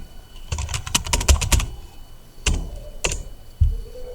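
Keys clack on a computer keyboard as a new file name is typed: a quick cluster of crisp close keystrokes, a pause, then a few single firmer taps spaced apart.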